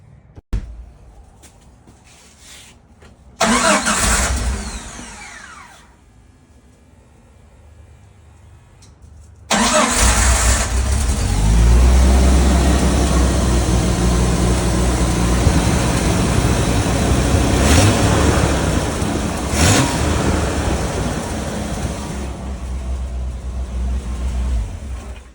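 A 1989 Jeep Wrangler engine cranks briefly, stops, then starts and settles into a loud, steady close idle with a few revs.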